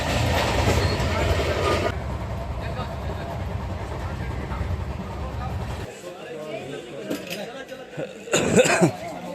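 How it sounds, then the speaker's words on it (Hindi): Kamayani Express pulling out of Varanasi Cantt station, a steady low rumble of rolling stock filling the first six seconds, then thinning to quieter platform ambience with brief louder bursts near the end, with people talking over it. "हमारी ट्रेन निकल रही है फाइनली"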